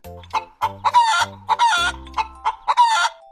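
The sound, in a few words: hen clucking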